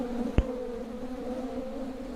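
Stingless bees hum in a low, steady drone while a colony is being split, with one brief tap early on.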